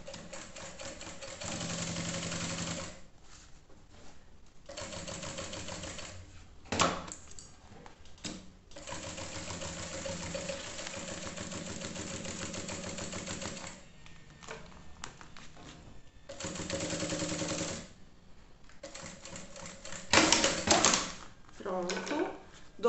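A sewing machine stitches a clear plastic pouch in repeated bursts of fast, rattling needle strokes, separated by short pauses and small handling clicks.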